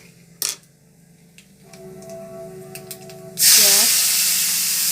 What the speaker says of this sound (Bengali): কালো জিরে ফোড়ন দিয়ে দিলাম,